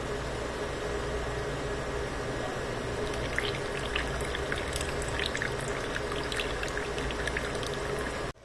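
Lemon juice poured into simmering apple murabba syrup in a home kitchen, a steady liquid splashing and bubbling hiss lasting several seconds with scattered higher crackles, close and moderately loud, no talking.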